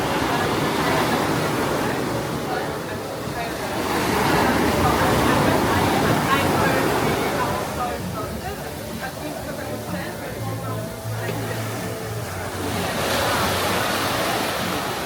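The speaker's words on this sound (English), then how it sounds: "beachfront cafes where you can sit directly facing the ocean" Ocean surf rolling onto a Bali beach in front of beachfront cafes, a steady broadband wash of breaking waves that swells and recedes, heard up close with voices faintly mixed in.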